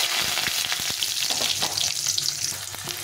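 Panch phoron with fenugreek and bay leaf spits and crackles in hot oil for a vegetarian dish, a dense, loud, continuous sizzle with small pops throughout.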